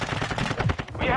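Gun reload in Call of Duty MW2 on PS5, a quick metallic magazine swap: a short run of sharp clicks and clacks, close and fairly loud, lasting about a second.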